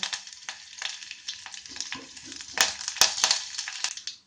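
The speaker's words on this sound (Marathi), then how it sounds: "आतां तातूंत आमी घालुया सासवां, तर आतां घालुया करबिलाची पानां।" Mustard seeds and curry leaves sputter in hot oil already tempered with asafoetida, a steady crackling sizzle with sharp pops and bursts near the end, close by and with no talk.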